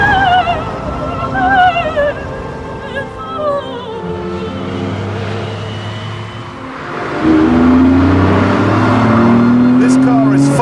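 A brutal, fast 5.7-litre car engine revs and accelerates hard, a rising roar that swells louder near the end, with engine notes sweeping upward over a rumbling low end and someone talking over the first half.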